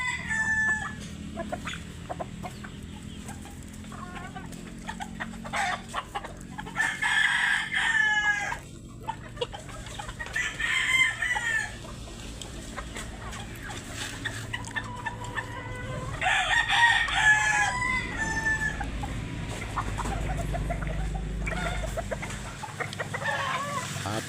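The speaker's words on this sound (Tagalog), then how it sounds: "Pakain ako ng manok." Roosters and hens on a farm being fed, with fighting cocks crowing in several loud bursts amid steady clucking and scattered bird calls, all close by with no talk.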